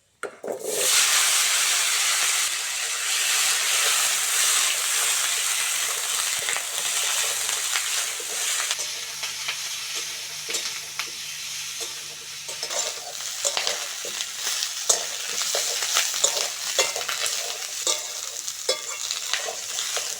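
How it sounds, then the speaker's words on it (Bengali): Potatoes and cauliflower fry in oil with panch phoron, giving a loud, steady sizzle throughout with frequent scraping stirs, close and with no voices. "আলু ফুলকপিটা ভালো করে ভেজে নিয়েছি"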